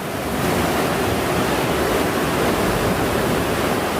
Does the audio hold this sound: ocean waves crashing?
yes